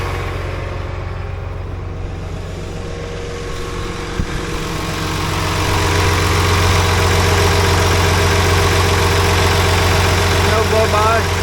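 A John Deere 850J dozer that has been stripped for parts idles close by with a steady low diesel rumble, growing louder and heavier partway through, while someone talks over it.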